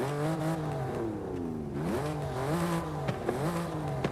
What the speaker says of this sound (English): You can barely hear the turbos.